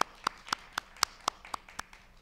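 Sparse claps from a congregation at a university chapel service greeting a professor, about eight separate sharp claps at a slow, uneven rhythm, fairly quiet and with no voices.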